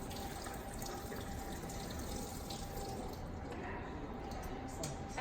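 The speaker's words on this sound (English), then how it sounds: "So the first thing that you do is we want to dump the water out." Soaking water is dumped out of a container of pre-soaked hazelnuts, a steady, close, continuous pour of running water that holds evenly from start to finish.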